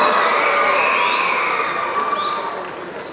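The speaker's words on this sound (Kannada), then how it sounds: "ಚಪ್ಪಾಳೆಯ ಮೂಲಕ ಅಭಿನಂದನೆಗಳನ್ನು ಸಲ್ಲಿಸುವುದನ್ನು ವಿನಂತಿಸುತ್ತೇವೆ" Audience at a campus inauguration ceremony claps and cheers as a dense, steady crowd roar, with a few higher shouts rising above it, fading slightly toward the end.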